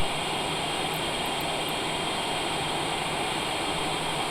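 A Cessna Citation Longitude business jet on approach to the runway, heard as a continuous, even roar of engine and airflow with no voices.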